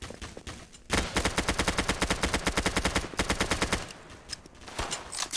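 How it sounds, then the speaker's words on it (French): Rapid automatic gunfire from a video game rattles in a dense, loud sustained burst lasting several seconds, followed by a few scattered shots. "ça tire là."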